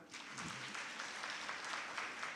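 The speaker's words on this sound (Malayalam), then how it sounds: "അവർക്കൊരു ക്ലാപ്പ് കൊടുക്കാം" An audience at a Women's Day gathering claps together, a faint, steady patter of many hands that runs unbroken throughout.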